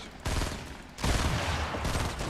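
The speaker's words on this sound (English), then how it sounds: "Just shooting" Rapid gunfire in a Fortnite Battle Royale match comes in dense bursts from a long-range weapon. It starts after a brief lull, cuts out for a moment, then resumes loud and sustained.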